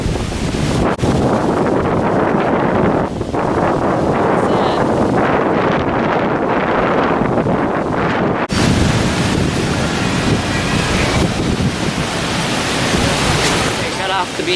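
Strong wind buffets the microphone in loud, continuous roaring gusts on a beach in Boracay, with surf-like rushing noise throughout.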